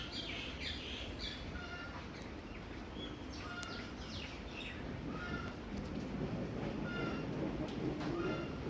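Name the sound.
chicken clucking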